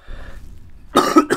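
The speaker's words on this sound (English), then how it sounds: "Why do I always cough when I'm playing this game?" One close, harsh cough in two quick bursts after a short quiet lead-in, from a player during Slender: 8 Pages.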